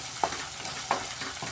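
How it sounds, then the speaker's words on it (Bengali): Onion and grated ginger sizzling in a pan, a steady frying hiss with two brief scraping clinks from stirring. "পেঁয়াজ আর আদাটা একটু ভাজা ভাজা হয়ে এসছে"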